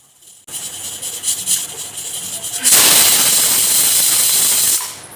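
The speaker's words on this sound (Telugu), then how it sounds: "ఇంకా 5 లేదా 6 విజిల్స్ వచ్చే వరకు ఉడికించుకోవాలి" A pressure cooker on a stove letting off a loud, sustained steam whistle, with a rougher hiss leading into the full blast that holds for about two seconds before cutting off.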